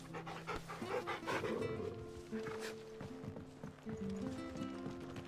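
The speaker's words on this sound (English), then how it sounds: "I pet the dog finally." Dog panting during petting in the game Final Fantasy XVI, a steady rhythmic pant running close and clear through the whole stretch alongside game music and footstep-like clopping.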